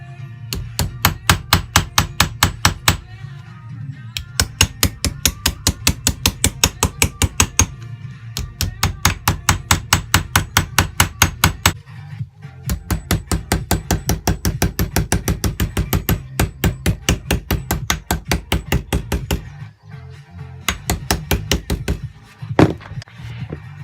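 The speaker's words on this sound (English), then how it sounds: "So we go back to the hammer and redo that." Hammer blows shaping a Triumph Stag steel body panel to tighten a bend, loud rapid metallic strikes in long bursts of steady rhythm separated by brief pauses, close and clear with no talking.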